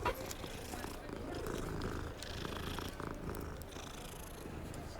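A cat purrs in Hogwarts Legacy, a soft continuous rumble sitting low and close beneath quiet game ambience throughout.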